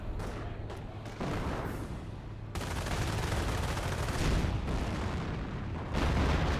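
A Flak 88 gun fires during a Company of Heroes battle, its dense booming blasts and crackling gunfire layering into a loud, continuous wash of combat noise.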